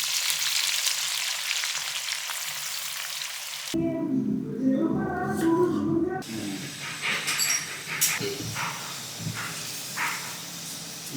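Sliced onions fry in a pan for beef biryani with a loud, continuous sizzle and hiss, and the tone shifts now and then as they are stirred.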